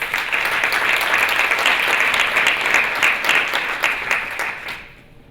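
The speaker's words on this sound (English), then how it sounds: "You can just have a round of applause." Audience applauding at the CECP Summit, a corporate philanthropy conference, in a sustained, dense wash of clapping that holds steady and then fades out near the end.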